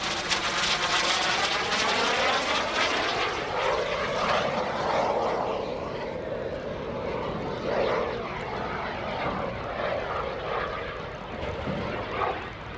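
A FLS MicroJet small jet aircraft with a hot-rod engine of 280 pounds thrust roars past at an airshow, a loud sustained whine and rush that swells and slowly fades as it passes overhead.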